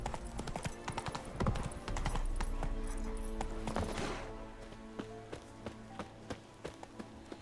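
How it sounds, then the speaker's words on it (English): Horse hooves clip-clop in The Witcher 3 Wild Hunt as the rider travels cross-country off the road. A dense, fast run of hoofbeats slows to a lighter, evenly spaced walk, with game music and ambience running underneath. "We're on a horse."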